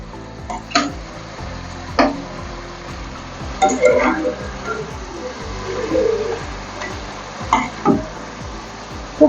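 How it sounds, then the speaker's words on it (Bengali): Chicken pieces frying in a pan for butter chicken, a steady sizzle with periodic clanks and scrapes of a spoon stirring against the pan. "একটু ভেজে নিতে হবে যাতে কাঁচা ভাবটা না থাকে"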